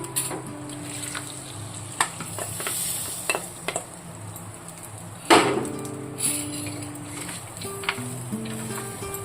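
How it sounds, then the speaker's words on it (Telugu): Tamarind mixture being stirred into pulihora rice in a pan, giving soft scraping and stirring with faint sizzle-like crackle and occasional clinks of the spoon, steady and close, with no talk. "అది కూడా మనం పులిహోరలో పోసేసుకొని కలిపేసుకుందాము."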